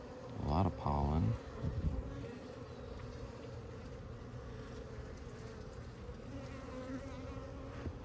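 Honey bees buzz steadily in a close, continuous drone while a hive is opened for inspection in February, with a short spell of speech early on.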